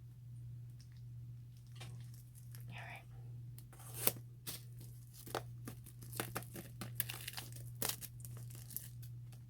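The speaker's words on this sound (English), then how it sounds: "let me open this so you can see how beautiful it is" A crinkly cardstock package is torn and opened up close, with soft crackling, tearing and rustling that grows busier after the first few seconds over a low steady hum, while someone speaks quietly.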